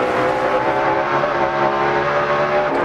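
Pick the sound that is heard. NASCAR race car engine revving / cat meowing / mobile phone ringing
NASCAR race car engine revving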